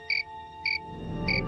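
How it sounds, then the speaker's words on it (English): A cricket chirps in three evenly spaced, shrill pulses, close and clear, over a steady low background hum. "If you keep a cricket in your room, he'll get used to the people there and chirp."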